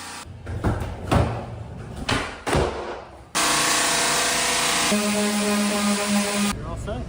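Closet doors being removed during a home renovation: a few loud, close knocks and clattering thumps, followed by a long, steady, loud rushing noise.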